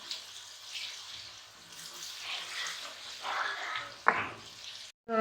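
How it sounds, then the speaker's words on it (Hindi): Ginger garlic paste frying in ghee, a steady soft hissing sizzle with gentle swells and a brief clack, close but quiet, ending in a sudden louder clatter. "इसको फ्राई करेंगे।"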